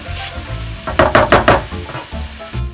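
Guanciale renders in a pot with onions, sizzling close and loud, and a quick run of four or five stirring scrapes stands out in the middle. No voices are heard.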